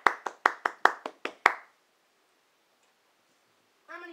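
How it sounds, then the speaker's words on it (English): Eight sharp hand claps at a talent show tryout, in a quick, slightly uneven burst, close and dry, followed by silence and then a brief voice at the very end. "How about a round of applause for Mr. Brunson?"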